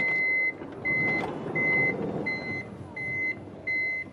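A steady series of six electronic power sliding door warning beeps from a Toyota Sienta, evenly spaced about every 0.7 seconds, each a sustained tone over faint background hum.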